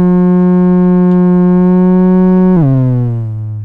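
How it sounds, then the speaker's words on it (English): A Metasonix RK4 oscillator with its resonance turned up blares a loud, sustained harmonic tone that holds steady, then drops sharply in pitch and keeps buzzing, with no voice present. "When you tweak the resonance, it could get really loud, as you can hear."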